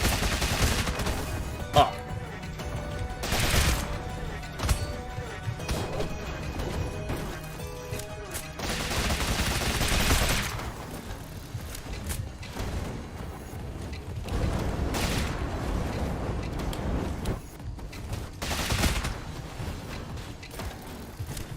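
Gunfire from a video game on a beta build, sounding as bursts of shots and mechanical clatter spread through a busy mix, with occasional brief speech over it.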